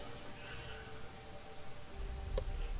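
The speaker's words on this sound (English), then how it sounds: "black rain, really?" Black rain in the video game Sheltered, a soft steady patter of rainfall on surfaces, quiet and continuous, with a faint low rumble near the end.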